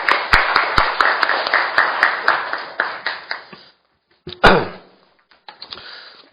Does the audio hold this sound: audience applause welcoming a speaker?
yes